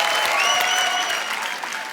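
Brief burst of studio audience applause on a comedy talk show during a musical evening, loud and steady clapping that fades slightly over two seconds.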